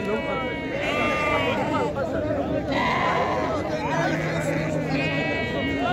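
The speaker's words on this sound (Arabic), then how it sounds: "كلهم خرفان" Sheep bleat repeatedly at a busy weekly livestock market in the Marrakech region, several loud nearby calls rising over steady crowd chatter and voices talking throughout.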